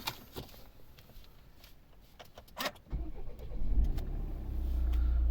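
A 2016 Volvo V60 R-Design with a 2.0 D4 diesel and automatic gearbox cranks and fires up about halfway through, settling into a steady, low idle rumble after a few quiet clicks and rustles.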